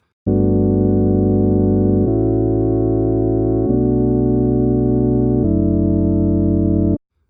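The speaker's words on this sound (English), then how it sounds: "It's just a really simple Juno patch with the mod wheel down." Loud, bright Juno synthesizer patch with the mod wheel down, chords held one after another, four sustained chord changes with a buzzy, rich tone, then stopping abruptly.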